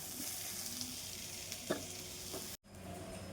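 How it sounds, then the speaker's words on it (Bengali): Vegetables stir-fried in oil in a pan, a continuous close sizzle with occasional utensil clinks and stirring, briefly cutting out near the end before resuming. "একটু লালচে কালার করে ভেজে নেবো সবজিগুলোকে"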